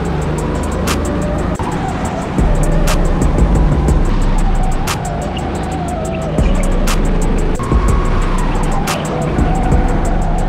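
A go-kart drives an indoor circuit during free practice at Kart System Bordeaux Lac. The engine's loud, continuous buzzing whine sits close to the microphone and rises and falls in pitch through the corners.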